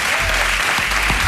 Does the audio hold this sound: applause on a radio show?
yes